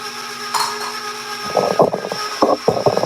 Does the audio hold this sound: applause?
no